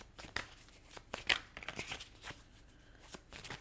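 Tarot cards riffle and snap together in short bursts of shuffling, close up and fairly soft, with brief pauses between.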